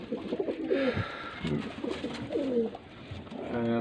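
Pigeons kept for sale in Faisalabad coo close by, with several soft, throaty, rolling calls repeating over low background noise.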